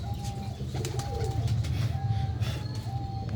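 Pigeons coo steadily in a loft, with bird calls layered over a continuous low murmur and a faint hum, no talking.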